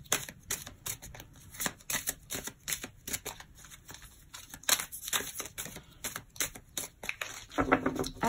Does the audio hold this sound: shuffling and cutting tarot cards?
yes